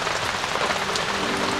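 Heavy rain pours steadily at a forest campsite in summer, a dense, even hiss of drops drumming on surfaces, loud and continuous with no talking.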